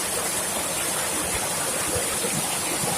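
Waterfall spilling over an old stone dam on Nutts River in St Thomas, Jamaica, a steady loud broadband rush of falling water, close and continuous.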